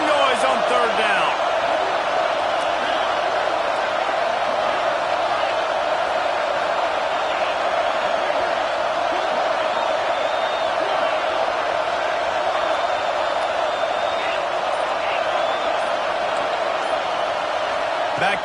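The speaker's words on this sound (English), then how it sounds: "This dog crowd is off the leash, and they are coming after them, bringing noise on third down." Dense, sustained roar of a football stadium crowd making noise on third down, loud and continuous throughout with no pauses, a broad wall of cheering and yelling.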